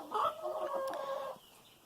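A Silkie chicken gives a short, close burst of clucking and crowing-like calls lasting about a second, then falls quiet.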